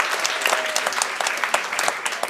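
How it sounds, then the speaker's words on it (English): Audience at a live mentalism stage show giving a round of applause, a dense burst of clapping with sharp individual claps standing out, fairly close and sustained for a couple of seconds. "Give him a round of applause and go back to the audience."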